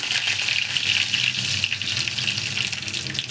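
Cumin seeds and curry leaves crackle and sizzle in hot oil, a steady dense frying hiss with small pops throughout, close and alone.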